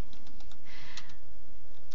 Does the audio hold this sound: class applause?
no